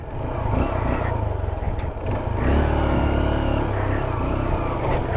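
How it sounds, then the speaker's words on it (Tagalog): Up close, a motorcycle's engine drones steadily while it rides onto a rural trail in Palanan, Isabela, its pitch swelling midway as the throttle opens, then settling into a continuous run. "Papasukin natin yung motor doon mga kasopret."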